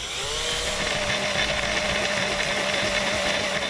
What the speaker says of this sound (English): now we're ready to drill them out